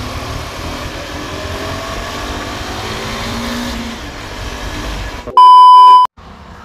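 A 2022 new-generation KTM RC 390 motorcycle in first gear, a close engine rumble running steadily before a loud sustained electronic beep tone cuts in near the end.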